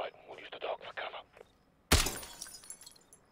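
A light's glass shatters when shot in the Call of Duty Modern Warfare video game, one sharp loud burst with a trailing crackle and tinkle, following soft muffled game sounds before it.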